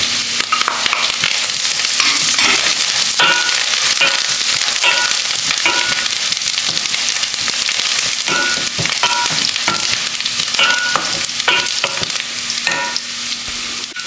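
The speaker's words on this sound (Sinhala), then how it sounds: "ටිකක් බ්‍රවුන් පාට වෙනකම් මේක ෆ්‍රයි කරගන්න." Cutlet mixture with curry leaves fries loudly in a pan, a constant close sizzle broken by occasional scrapes and clinks as it is stirred.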